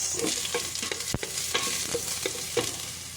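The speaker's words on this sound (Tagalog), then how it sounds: "Lagay na natin ang ating luya. Mix." Ginger stirred and fried in a pan, a steady close sizzle with repeated scraping stir strokes and one sharp knock near the middle, no voices.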